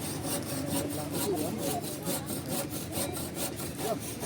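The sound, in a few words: hand saw cutting wood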